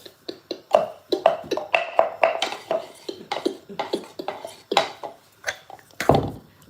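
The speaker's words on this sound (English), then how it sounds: "I'm using a mortar." Okra pounded by hand with a mortar and pestle in a home kitchen: a steady run of sharp wooden knocks and thuds in quick rhythm, close and fairly loud, with no talk.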